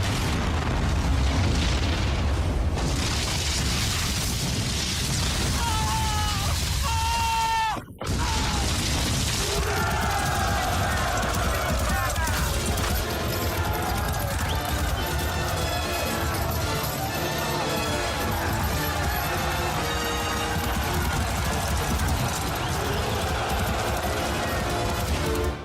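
Gunfire and explosions from a war battle scene set in Warsaw, heard as a dense, continuous roar of booms and mechanical clatter that drops out briefly and then resumes at full loudness without pause.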